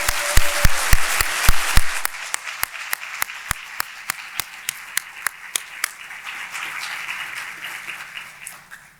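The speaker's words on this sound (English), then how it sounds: "so give me a round of applause for them." Applause at an annual awards and business meeting for newly installed officers and directors: a full round of crowd clapping with several loud, evenly spaced claps standing out near the front, tapering off over about nine seconds.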